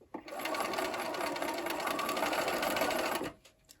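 A sewing machine stitching straight down a line through quilt fabric with red thread, running in one continuous fast, close whirring burst for about three seconds before stopping, with no talk over it.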